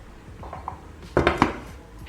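A knife clacks sharply against a board three or four times as peeled mushrooms are cut in a kitchen, preceded by faint soft taps and no talk.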